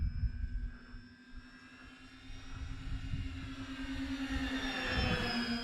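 E-flite Beechcraft D-18 RC model twin-engine airplane flying outdoors, a steady engine drone that swells louder as it draws nearer, with a rising high-pitched whine toward the end.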